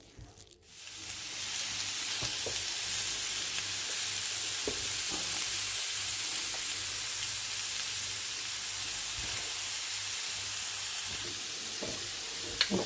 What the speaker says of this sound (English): So I'm going to add about 3 tablespoons of oil into the soya powder and then start.